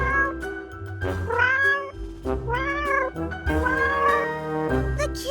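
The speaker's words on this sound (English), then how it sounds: "The kitty is there!" A cat meows loudly and close several times in a row, long drawn-out wailing calls with short gaps, over a low background hum.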